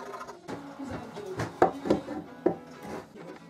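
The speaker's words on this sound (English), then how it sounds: "I did some filing just to clean up the edges." Irregular rasping and scraping strokes of a file cleaning up wood edges, a few sharper knocks among them, close and fairly quiet.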